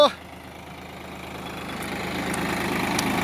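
A new tractor's engine idles with a steady low rumble that slowly grows louder, with a voice heard briefly at the start.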